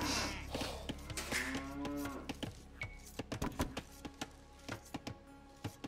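A cow moos from a livestock animal in the video game Age of Empires 2, one drawn-out low call over game ambience, followed by a string of sharp clicks and interface taps with no talking.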